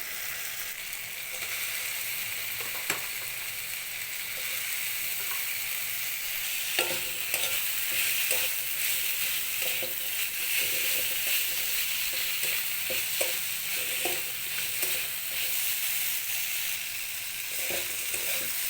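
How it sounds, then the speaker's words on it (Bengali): Boiled mahua fruit frying with spices in hot oil, producing a constant dense sizzle with occasional soft scrapes and stirs, close and even throughout with no voices. "মশলার সাথে ভালোভাবে কচড়াটা কষিয়ে নিয়েছি"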